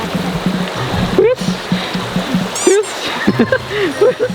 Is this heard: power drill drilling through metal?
no